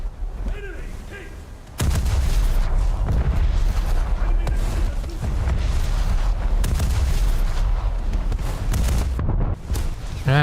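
Heavy naval gunfire and explosions from a World War era battleship game erupt after a brief quieter opening, a loud, continuous barrage of booming blasts and rumbling impacts, with a voice speaking faintly.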